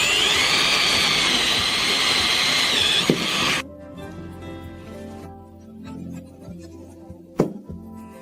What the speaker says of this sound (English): We drill the other 2 holes all the way through.